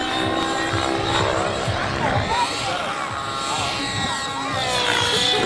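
A radio-controlled helicopter flies low over grass, its rotor and motor making a steady whirring drone with shifting pitch. Crowd noise and voices sit beneath it.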